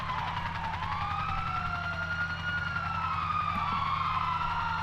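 Loud, continuous wail of a police siren in the game GTA Online, sweeping up and down in repeated cycles over a steady low engine drone, with no voices.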